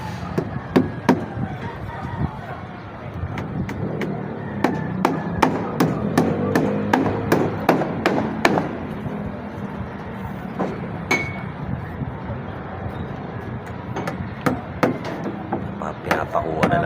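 Hammer blows ring out in irregular bursts during siding installation, a dozen or more sharp nearby strikes over a busy background with some talk.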